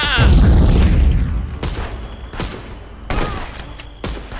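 Heavy booming grenade blasts in the video game Contraband Police: one opens, followed by several sharp bursts and crackling impacts at intervals, with faint voices underneath.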